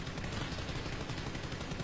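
Gunfire strafing in a battle royale video game, a dense continuous burst of rapid shots filling the whole moment, loud and close with no pauses.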